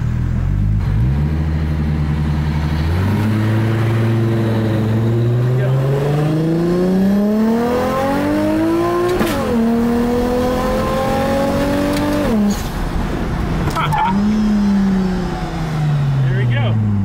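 Nissan Skyline engine pulling away in first gear, rising in pitch through a long rev, briefly dipping, then climbing again, loud and close, with someone talking over it.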